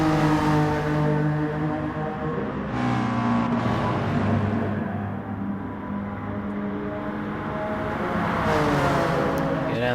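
A Gr4 racing car's engine drones at high revs down the Fuji straight in a racing game, a steady, loud tonal whine that shifts pitch with gear changes and then climbs again, a commentator talking over it.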